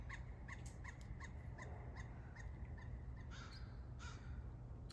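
A crow caws repeatedly outdoors, a series of short harsh calls at a distance over steady background noise, with no talk.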